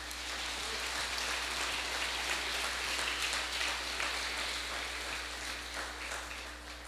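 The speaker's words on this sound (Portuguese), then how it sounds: "Podemos aplaudir o Senhor na vida desses irmãos?" Applause from a church congregation during a Portuguese-language service, a steady wash of many hands clapping at a moderate level for the whole stretch, with a low hum underneath.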